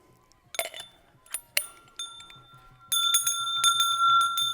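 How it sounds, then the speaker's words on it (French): Two homemade bells, one cut from the top of a fire extinguisher and one from its bottom, ring out in bright metallic strikes, first a few separate hits, then a rapid run of clear ringing tones with sustained overtones. "Cloche numéro 1 avec le dessus de l'extincteur. Cloche numéro 2 avec le fond."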